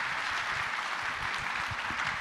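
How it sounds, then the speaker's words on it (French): A lecture-hall audience at a French press forum on religious identity and secularism claps steadily. The dense, even applause holds at a moderate distance throughout, with no voices over it. "Vous voulez pas lui donner un petit coup d'applaudissement"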